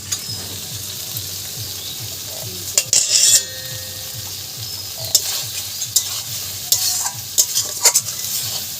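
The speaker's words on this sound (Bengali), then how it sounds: "আমি ডিমের তরকারিতে একটু 1 চামচি ঘি দিয়ে দেবো।" A spoonful of ghee hits egg curry in a pan, giving a steady sizzle, with a spoon scraping and stirring in short bursts and occasional clinks, no voices.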